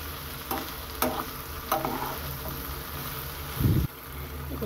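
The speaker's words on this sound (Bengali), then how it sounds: "এই যে আমি আবারও কিছুক্ষণ নেড়ে ছেড়ে দিলাম।" Flat beans and potatoes fry in a pan and are stirred, a steady sizzle broken by a few distinct spoon knocks and one brief low rumble near the end.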